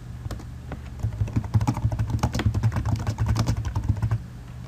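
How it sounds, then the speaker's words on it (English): A question is typed into a search box on a computer keyboard in Microsoft Excel 2010, a quick irregular run of close, crisp key clicks lasting a few seconds, with no talking. "Then type your question into the search box."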